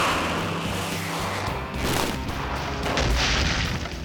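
A rocket-powered sled hitting an immovable object at about 700 miles an hour produces a sustained, loud, roaring boom with rumbling crash noise throughout.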